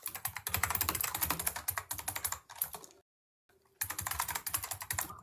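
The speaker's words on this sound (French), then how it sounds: "quand tu cliques et que tu tapes sur ton clavier, ça nous éclate les oreilles" Rapid clicking and key presses on a computer keyboard, close and fairly loud, in dense continuous bursts with a brief silent gap midway.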